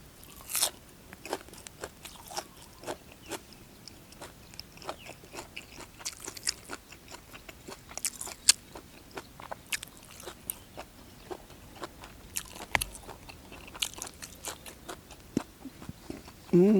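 Crunchy chewing of field crab out in the rice paddies, a long sequence of sharp, close bites and crackles coming at an irregular pace, with faint talk in the background now and then.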